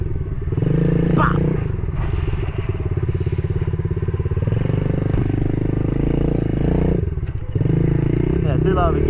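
Pit bike engine running during a dirt bike soccer game, a continuous loud buzzing drone that holds steady with brief dips, close up, with some clatter and scraping.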